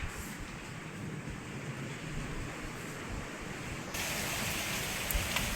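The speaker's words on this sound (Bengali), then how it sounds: "প্রচণ্ড বৃষ্টি পড়ছে হাওয়া দিচ্ছে প্রচুর" Heavy rain pours down in strong wind, a dense unbroken hiss and roar that grows louder near the end, with no talking.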